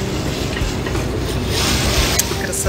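Steady broadband wash of wind and water around a ship fitted with both an engine and sails in Malta's Grand Harbour, continuous and fairly loud with a low rumble throughout and no talk.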